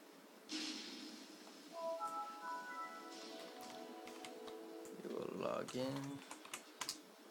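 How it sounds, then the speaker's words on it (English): Typing on a Razer Lycosa computer keyboard in a home PC setup, steady clusters of close key taps running through the clip under a low hum, with a person talking over part of it. "I got the Razer Lycosa keyboard, the touch"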